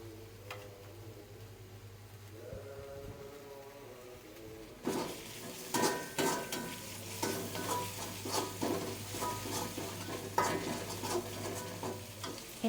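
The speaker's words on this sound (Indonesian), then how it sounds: "Ini kan lagi numis ya guys" Oil sizzles steadily in a pan while ingredients are sautéed for ayam bakar balado, with stirring scrapes and clatter growing louder partway through, close and with no talk.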